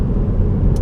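Ford Focus SW ST Line engine heard as a brief, loud, deep rumbling drone under way, close and steady, with no talk.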